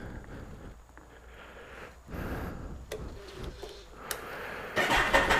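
A Kawasaki ZX-14 motorcycle that has sat unridden for a while, cranking with a starter whir and catching, then the engine rising to a louder idle near the end, heard close.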